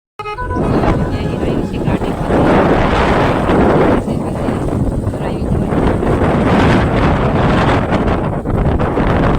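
Outdoor wind buffets the microphone in loud, continuous rumbling gusts, with people talking faintly underneath.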